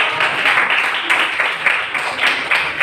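Classmates in a school classroom clap for a group that has just presented, a steady patter of hand claps running throughout at moderate loudness.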